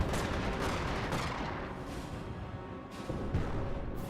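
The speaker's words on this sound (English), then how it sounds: "Taking more shots against this Wehrmacht sniper" Gunfire aimed at a Wehrmacht sniper in the Company of Heroes video game, sustained battlefield shots and distant artillery-like thuds crackling over a thick, continuous wash of combat noise, with a couple of sharper reports near the end.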